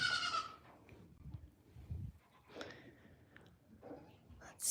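Goats on a small farm bleat in short, fairly close calls at irregular intervals, broken by quiet gaps and soft low rustling, with no clear talk over them.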